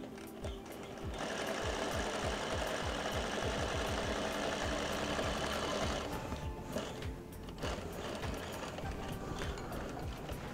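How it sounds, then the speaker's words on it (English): Sewing machine running steadily as it stitches fabric after a pivot, a continuous close mechanical whir that briefly lets up near the end, with no talking. "start to sew."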